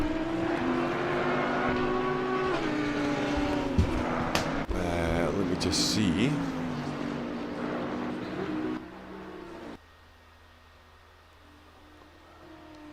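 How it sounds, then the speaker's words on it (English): Race car engine sound from Assetto Corsa Competizione at Laguna Seca, a steady droning whine that shifts pitch, running under continuous talk before dropping much quieter near the end. "Is that any better for the engine sound?"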